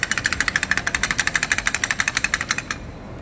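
A 2008 Toyota SW4 engine runs with a rapid, regular knocking pulse and vibration, loud and close, then the rhythm fades out near the end.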